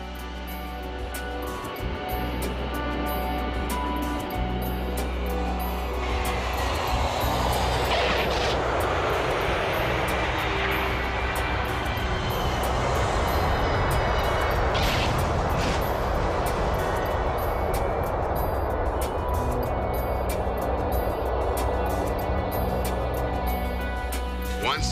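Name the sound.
Pan Am airliner arriving on the runway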